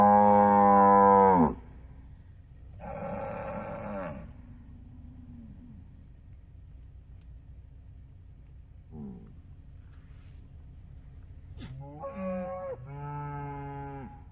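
Cattle moo during a street cattle drive, several long, loud, close bellows separated by quieter stretches, with a couple of shorter calls in between and no talking.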